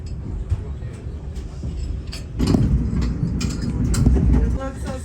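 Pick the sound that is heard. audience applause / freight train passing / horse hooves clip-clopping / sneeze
freight train passing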